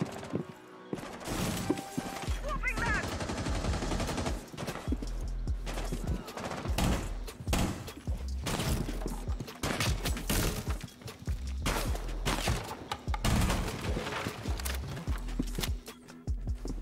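Rainbow Six Siege gunfire, rapid volleys of loud percussive shots in repeated bursts through most of the stretch, mixed with thuds and breaking debris.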